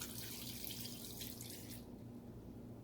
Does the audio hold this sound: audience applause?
no